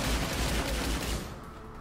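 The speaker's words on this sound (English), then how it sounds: "he's shooting from up here." Enemy gunfire in the video game Riddick: Escape from Butcher Bay, a dense, loud rattle of rapid shots with heavy low thumps that fades slightly toward the end, with no voices over it.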